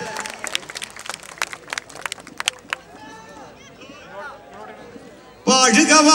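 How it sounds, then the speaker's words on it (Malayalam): An audience at a stage folk performance claps in a scattered burst for a performer's Vattamudi costume. The clapping fades under someone talking, then loud music abruptly takes over at the end. "വട്ടമുടി വട്ടമുടിക്ക് നല്ലൊരു കൈയടി കൊടുക്കാം വേഷത്തിന്"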